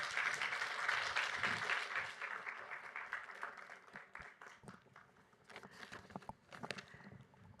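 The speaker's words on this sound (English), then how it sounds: "A round of applause to our beautiful panel" Audience applause welcoming a panel at the Vital Voices Global Festival, a quiet, distant wash of clapping that gradually thins into scattered claps.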